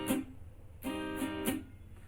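Strummed acoustic guitar plays a song's strumming pattern, a few ringing chord strokes with one short muted stroke, close and clear with no talking.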